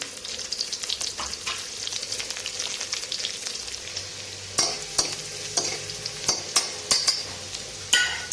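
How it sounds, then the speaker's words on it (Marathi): Cumin, mustard seeds and garlic sizzle in a tempering for moong dal, first a steady frying hiss, then louder crackles and repeated clinks of a stirring spoon against the pan. "त्यानंतर जिरं, मोहरी आणि लसूण टाकायचं."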